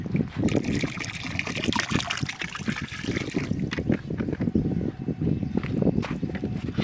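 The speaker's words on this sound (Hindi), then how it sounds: "बस बहुत है इतना पानी, विनीगर इसमें ऐड कर लें" Water mixed with vinegar for cleaning rooftop solar panels pours and splashes in a continuous, close, uneven trickle with bubbling gushes throughout.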